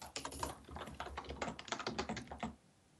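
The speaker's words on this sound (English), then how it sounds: "All I hear is someone typing" Rapid typing on a keyboard, a dense run of light clicking keystrokes that goes on steadily for a couple of seconds, close and fairly quiet, then stops.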